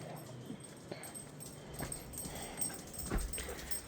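A dog whimpers and yips softly in short, scattered bursts over a quiet indoor background, faint and close, with no one speaking.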